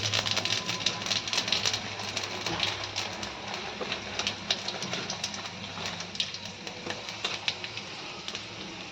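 Panch phoron spices crackle in hot oil in a pan while katla fish curry with raw banana and potato is being cooked, making a dense, fairly loud sputter of tiny pops that runs steadily throughout with no voices.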